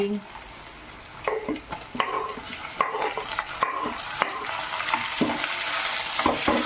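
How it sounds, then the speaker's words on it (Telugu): Onions frying in a pan, with steady sizzling under repeated scraping and stirring strokes and occasional clinks of a utensil against the pan. "ఇప్పుడు ఇందులోనే ఆనియన్స్ ఫ్రై చేసుకోవాలండి."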